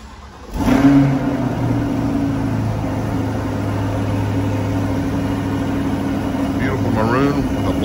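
A maroon 2020 Chevrolet Corvette Stingray 2LT with black interior and targa top, its engine starting and settling into a steady, close idle hum that holds throughout, with a faint voice near the end.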